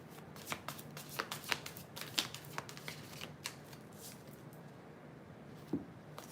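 Tarot cards being shuffled by hand during a live reading, a fairly quiet run of soft riffling flutters and taps with a louder burst near the middle, heard alone without talk.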